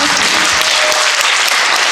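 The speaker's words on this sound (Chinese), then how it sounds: "再给他们一次掌声！" Audience applause at a church Christmas party, a dense sustained clapping from a crowd that fills the room evenly with no break.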